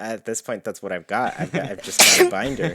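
One sharp sneeze bursts out amid a lively conversation, a single loud, breathy blast that breaks through several people talking.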